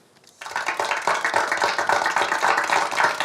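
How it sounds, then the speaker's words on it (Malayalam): A classroom full of students claps steadily for a classmate, a dense burst of applause that starts abruptly and keeps going to the end. "എല്ലാവരും അമ്പാടിക്ക് ഒരു കയ്യടി കൊടുക്കുക."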